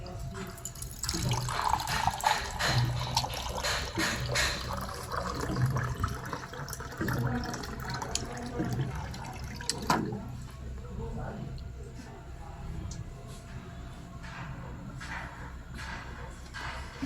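Water runs from a water dispenser as a soft, uneven trickle and splash, with a few clinks, while a person talks over it at close range.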